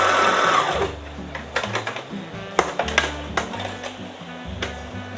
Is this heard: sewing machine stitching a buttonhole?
yes